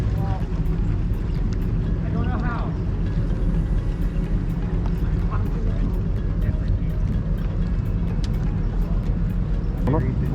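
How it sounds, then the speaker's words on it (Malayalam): A truck heading from the United States into Canada rolls across the bridge overhead, a steady heavy rumble of engine and tyres above a boat's own drone, with people talking nearby. "മുകളിൽ ഒരു ട്രക്ക് പോകണു."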